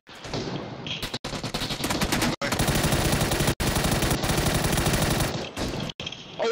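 Sustained automatic gunfire in the PUBG video game, loud rapid bursts firing almost continuously with a few brief gaps, close and dominant throughout.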